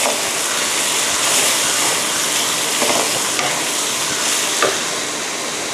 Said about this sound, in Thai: เลยก็จะเติมในส่วนของข้าวหอมมะลิเก่าลงไปค่ะ แล้วก็ผัดให้เข้ากันค่ะ